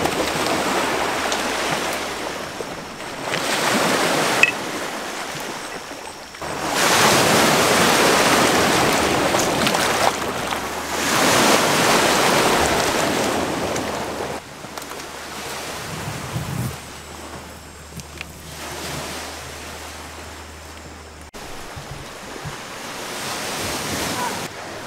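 Waves wash onto a beach on the north shore of Lake Erie at night, a steady broadband surf roar that swells and eases in long surges, with wind buffeting the microphone throughout and no talk.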